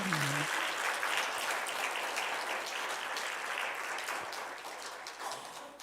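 Broad crowd applause fills a church lecture hall, a dense continuous clatter of many hands that slowly tapers off.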